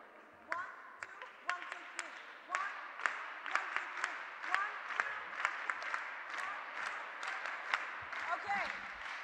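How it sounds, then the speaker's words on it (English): An audience at a live-streamed women's forum event in Portugal claps together in a repeating rhythmic pattern, crisp claps in steady grouped beats, with faint talk underneath. "How about we keep clapping? Let's make a pattern."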